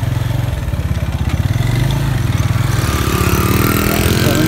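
A motorbike ridden along a desert track in Damb, Balochistan, its engine running steadily and loud with a throbbing mid-pitched drone throughout, no voices over it.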